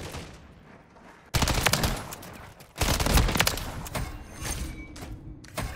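TAQ Eradicator gunfire in Modern Warfare 3: loud, rapid automatic bursts of shots that break out suddenly, pause briefly and resume, with thumps and scattered impacts between them.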